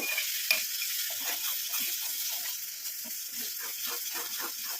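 Gooseberries cooking in oil on a low flame as a homemade hair dye oil, a quiet, steady crackling sizzle with soft intermittent stirring, close and unbroken by speech.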